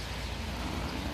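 Rain falling outside a convenience store on a wet day during a long-distance cycling trip, a dense, even hiss of drops filling the short clip with no voices.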